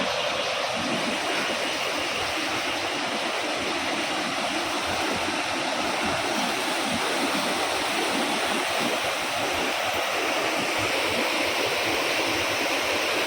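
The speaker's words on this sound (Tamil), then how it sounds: "தண்ணி பாருங்கள் எவ்வளோ கலங்களாக வந்துட்டுருக்கு" Rushing muddy river water roars steadily and loud in Wayanad after hill rain, a continuous broad wash of flowing current with no break.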